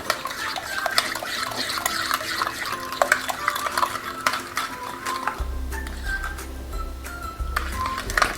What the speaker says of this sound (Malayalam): കുറേയൊക്കെ അലിയുന്ന രീതിയിൽ നന്നായിട്ടൊന്ന് മിക്സ് ചെയ്തെടുക്കാം